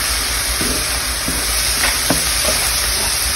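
Chopped onions caramelize in a hot pan, giving a continuous sizzle and hiss broken by a few soft scrapes and taps from stirring, with no voices.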